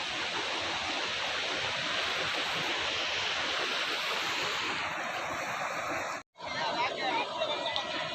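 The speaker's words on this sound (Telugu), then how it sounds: "బ్రిడ్జ్ కూడా చూడండి, బ్రిడ్జ్ దాటిపోయి మరి వాటర్ వస్తుంది ఫ్రెండ్స్" Floodwater after heavy rains rushes over a submerged village bridge in a loud, continuous roar that stays close and unbroken apart from a brief cut near the end.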